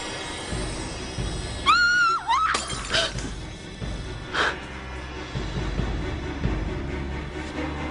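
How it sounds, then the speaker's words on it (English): A dropped glass shatters in a TV soap drama scene, a sudden bright crash with ringing shards, followed by a scattered tinkle and further clatter, with background music and ambience around it. "dropped a glass"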